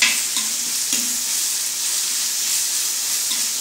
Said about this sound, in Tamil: தக்காளி ஒரு 10 minutes நல்லா வதக்கிறோம்.